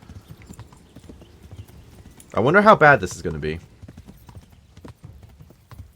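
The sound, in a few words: horse hooves trotting in Kingdom Come Deliverance video game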